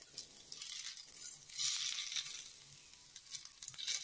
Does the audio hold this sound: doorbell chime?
no